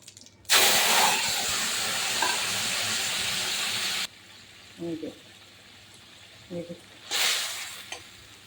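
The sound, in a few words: curry poured into hot tempered oil, sizzling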